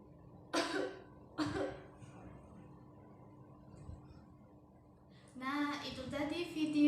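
A person coughs twice in quick, harsh bursts close to the mic, then a voice speaks in a quiet indoor setting, set against a low background hum.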